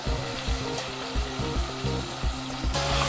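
Ground coconut and cardamom paste frying with mashed tomato for carrot rice, a loud close sizzle broken by rhythmic scraping stirs of a spatula against the pan, roughly every half second.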